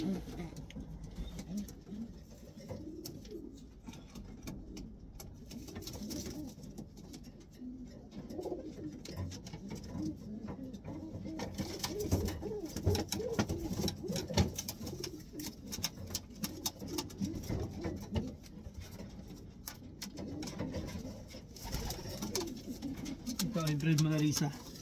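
Racing pigeons kept as breeders for one-loft races cooing inside a loft, soft repeated coos close by with someone talking over them.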